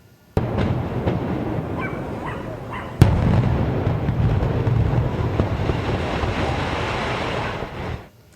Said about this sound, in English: it took less than 10 seconds for what was left of that partially collapsed condo building to come down